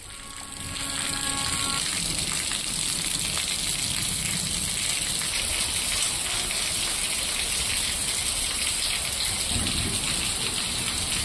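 Heavy rain in a sudden storm with thunder and gusty winds in the Visakhapatnam region, a loud, dense, continuous downpour that roars steadily from start to end.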